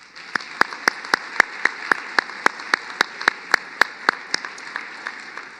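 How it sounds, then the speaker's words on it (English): Audience applause at a winter commencement ceremony, honoring the music faculty, with sharp claps in a steady, almost unison rhythm of about three per second over a continuous crowd wash for several seconds. "I'd like to have a special round of applause for our wonderful music faculty"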